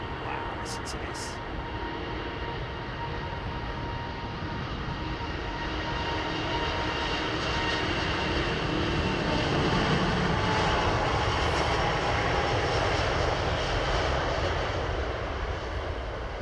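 A jet aircraft takes off at full power at London Heathrow Airport in fog, its engines producing a steady, loud, broadband roar that swells gradually and never stops.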